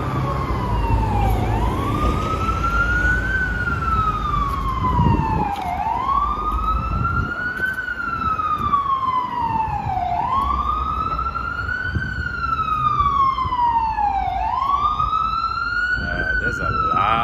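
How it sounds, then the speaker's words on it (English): An ambulance siren wails continuously on a Harlem, New York City street at rush hour, rising and falling in long slow sweeps, loud and nearby over street noise, with a voice speaking underneath. "There's a lot of ambulance today."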